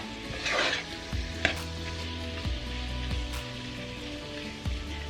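Onions frying in plenty of oil and being mixed in a pan, a soft, steady sizzle with occasional louder scrapes and a sharp tap from the utensil, quiet and close with no speech.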